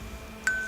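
A mobile phone's notification tone cuts in during World of Warships gameplay commentary: one abrupt, steady electronic beep that sustains to the end over a low background hum.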